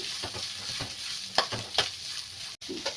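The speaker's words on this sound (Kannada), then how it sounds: "ಈಗ ಈರುಳ್ಳಿ ಸ್ವಲ್ಪ ಬ್ರೌನ್ ಆಗೋವರೆಗೂ ನೀಟಾಗಿ ಫ್ರೈ ಮಾಡ್ಕೊಳ್ಳೋಣ" Onions frying in a pan for potato palya, a soft continuous sizzle broken by several scraping stirs of the spoon, close and moderately quiet with no speech.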